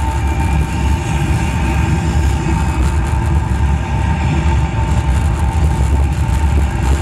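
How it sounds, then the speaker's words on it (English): A simulated rocket main engine start and liftoff at an Epcot attraction roars as a dense, loud, sustained low rumble that holds steady without pause. "We have main engine start."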